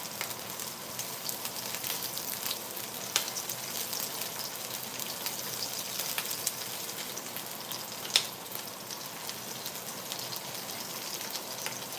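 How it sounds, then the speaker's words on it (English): Food sautés in a hot pan for a breakfast cook, a steady close sizzle and crackle with scattered pops and no talk. "Saute, saute."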